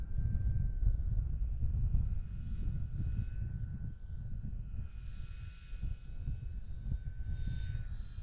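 A small model airplane in the Bigfoot style comes in to land in gusty wind, its faint propeller whine drifting in pitch over a constant low rumble of wind buffeting.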